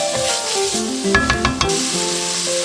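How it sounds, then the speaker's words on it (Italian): Pancetta browning over raised heat in a pan for ragù bolognese sizzles steadily and close, with a brief burst of stirring clatter midway and no talking. "aggiungiamo la pancetta, alziamo un pochino la fiamma, la sgraniamo e la facciamo rosolare."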